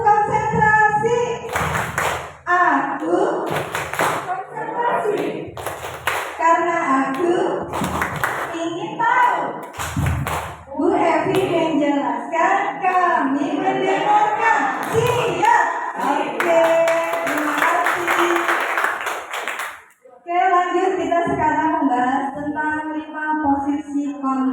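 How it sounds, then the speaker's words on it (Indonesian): Children at school perform a rhythmic concentration clapping routine, bursts of claps mixed with chanted group voices throughout, loud and close. "Tepuk konsentrasi."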